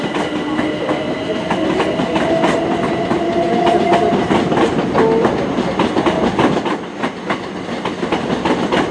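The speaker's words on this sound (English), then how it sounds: "departing now to 1146, Southern Service to London Victoria" A Southern passenger train to London Victoria pulling out of Brighton station, a steady loud rolling rumble with rhythmic clicking of wheels over rail joints and sustained electric motor whine, no voices.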